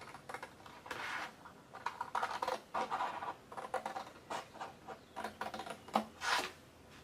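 Scissors cut a long line through paper for a gift box, a quiet series of irregular rasping snips and rustles close by.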